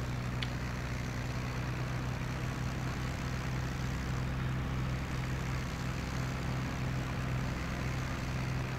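A Ju-87 Stuka engine idles and drones steadily while taxiing on a runway in the flight sim IL-2 Battle of Stalingrad, a continuous low, even hum throughout.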